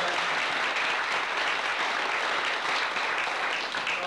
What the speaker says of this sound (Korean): 우리 이런 꽃다리 자랑스러운 동지들에게 뜨거운 박수 한번